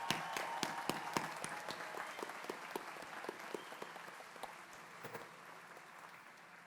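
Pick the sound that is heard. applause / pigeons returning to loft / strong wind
applause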